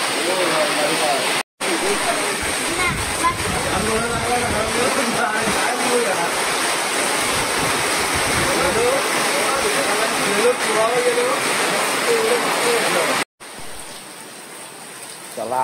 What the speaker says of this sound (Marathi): चला आज लय पाणी पडतो.